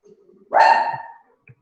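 A dog gives a single loud, close bark that rings briefly, with faint low sounds before and after in an otherwise quiet indoor room.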